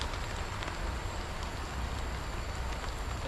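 Rain falling steadily on a tarp camp in cold, damp weather, a continuous even hiss of drops with no break, close and moderately loud, no voices.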